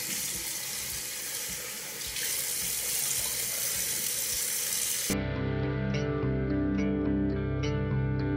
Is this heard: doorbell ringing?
no